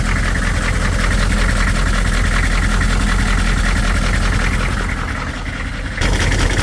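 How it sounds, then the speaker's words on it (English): A HMMWV M1097R1 engine runs close by at idle, its power steering belt skipping on the pulley, giving a loud, steady mechanical rumble with a rapid rough pulsing throughout. "it looks like the belt's just skipping on it"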